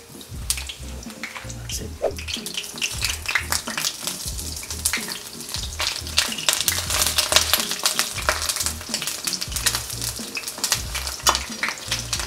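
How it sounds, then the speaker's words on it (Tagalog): Eggplant frying in hot oil sizzles and crackles continuously for several seconds, with irregular sharp pops and some stirring, close and fairly loud with no talking. "piprituin ko lang tong talong or yung eggplant"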